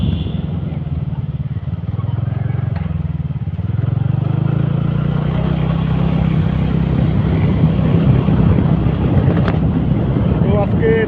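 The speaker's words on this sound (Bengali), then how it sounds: "বাইকে করে যাচ্ছি দুইজন।" A motorbike carrying two riders travels along village roads, its engine droning steadily under heavy wind rush, rising in pitch as it speeds up, with a voice speaking over it.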